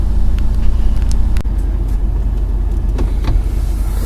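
A Darley Max tactical pumper fire truck driving in two-wheel-drive high mode, its engine and road rumble steady and close throughout, with a few faint clicks and rattles.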